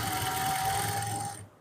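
A sewing machine runs steadily, stitching a center seam in trouser fabric for bell-bottom pants, a close continuous whir with a faint whine that stops abruptly near the end.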